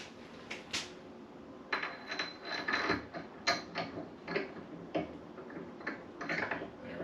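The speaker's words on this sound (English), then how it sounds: "let's see if we can get this R8 collet chuck installed now" An R8 collet chuck being fitted into the spindle of a PM-25MV benchtop milling machine, giving a string of close metallic clicks, knocks and scraping taps at an irregular pace, with no talking.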